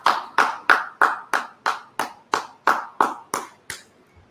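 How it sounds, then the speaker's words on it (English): A dozen loud, evenly spaced claps ring out one after another with a short echo after each, slowing slightly toward the end. "Let's go ahead, clap it up."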